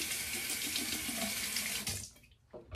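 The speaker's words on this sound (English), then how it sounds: "Okay, so now I will rinse off with near hot water" A bathroom tap runs steadily with hot water for rinsing after a safety-razor shave. The stream hisses loudly and evenly, then stops near the end, leaving a few faint drips and small knocks.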